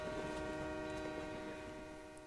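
A train in the video game West of Loathing gives a steady, continuous rumble with sustained horn-like tones that fade slightly toward the end.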